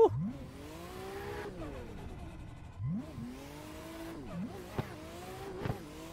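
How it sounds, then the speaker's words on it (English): A drifting car in a racing video game on mountain roads: its engine revs rise and fall in repeated swoops, with tire squeal and quick throttle blips toward the end, loud and close with no talk. "First impressions of the R21 in drifting here on some mountain roads"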